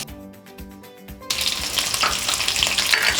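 Chopped onions and capsicum hit hot oil for Gobi Manchurian, a loud broadband sizzle bursting in after a quiet opening and roaring steadily to the end, with no voices.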